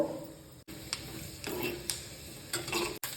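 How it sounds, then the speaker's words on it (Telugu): Chana dal tipped into hot oil for a rice-flour drumstick curry crackles and spatters in bursts, with light ticks and stirring sounds that stay fairly faint against a steady background. "నూనె కాగింది ఇప్పుడు ముందుగా పచ్చిశనగపప్పు వేసుకుందాము"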